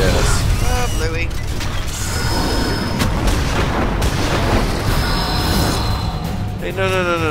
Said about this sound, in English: Alright, he's gonna explode